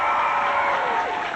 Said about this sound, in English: Ladies and gentlemen, give a big round of applause.